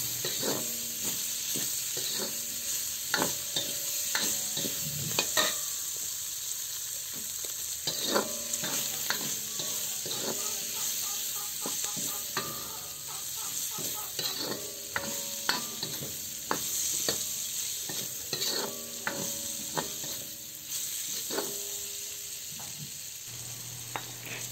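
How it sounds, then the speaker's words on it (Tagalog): Sliced white onions sautéing in a pan sizzle steadily up close while a spatula stirs them in repeated clattering scrapes, for a dish of bitter gourd with pork. "Haluin lang natin hanggang sa maluto ang sibuyas."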